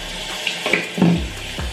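Water from a bathroom tap runs steadily while someone rinses their face at the sink, a close, continuous splashing flow with small bursts of splatter and no talking.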